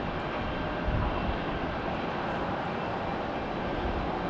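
A Boeing 777 taxiing at Raleigh-Durham airport on a cold day produces a low, even engine drone, moderately loud and continuous with no talking.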